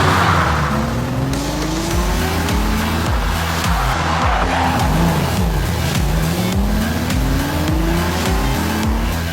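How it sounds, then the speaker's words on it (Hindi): A race car drives hard with a loud, continuous engine roar, rising and falling revs and shifts, and some tire squeal, heard alone at close range. "मिस्टर निर्वाण की ड्राइविंग और बेहतर होती जा रही है"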